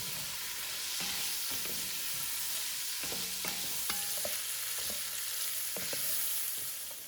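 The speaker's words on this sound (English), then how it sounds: "Okay, gonna give it a stir. And I just want these to get just a little soft." Softening vegetables in a pot are stirred with a spoon, giving repeated scrapes and clanks against the metal over a quiet, steady sizzle.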